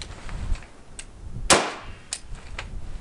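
A single suppressed rifle shot from a Mark 18 fitted with a Dead Air Sandman S, a sharp crack midway through, followed by a short echo indoors in a close-quarters setting, with faint clanks before and after.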